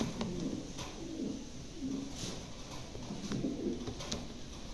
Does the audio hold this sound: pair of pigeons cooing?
yes